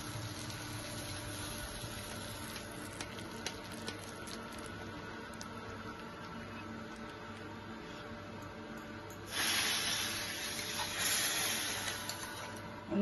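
Hot tadka tempering poured onto makhana dal, giving a steady soft hiss and patter that swells into a louder, brighter sizzle near the end, with no one talking.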